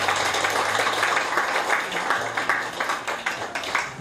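An audience at a lecture held by an association applauds, giving steady, dense clapping from many hands that carries on for the whole stretch with little else heard.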